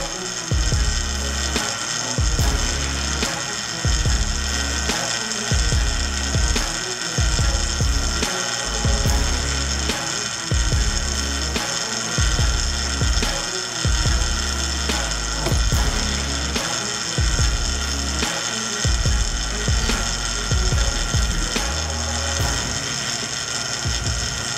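A vacuum pump runs continuously, pulling vacuum on a sealed bag over a carbon fiber logo inlay, with a loud steady hum and a fast rhythmic throbbing pulse and no talk.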